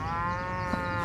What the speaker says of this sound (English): There are a lot of cows here.